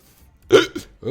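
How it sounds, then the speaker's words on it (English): A single loud, close hiccup, sharp and sudden, followed quickly by a brief softer catch and then a short voiced sound. "Oops, that was a hiccup."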